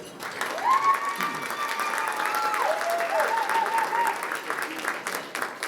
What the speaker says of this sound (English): A round of applause for Michael McKee.